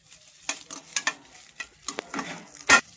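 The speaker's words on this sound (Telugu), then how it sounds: "ఈ విధంగా అయితే ఫ్రై చేసేస్తాం" Egg pasta being stirred and fried in a pan at home, with a series of sharp scraping and clattering strokes over a soft sizzle, ending in one louder knock of utensil against pan.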